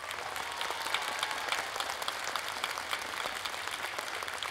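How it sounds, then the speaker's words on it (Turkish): Studio audience on a Turkish TV singing show stage clapping after a performance, a steady, dense wash of applause held at even loudness from start to finish. "Bir büyük alkış Metin abiye."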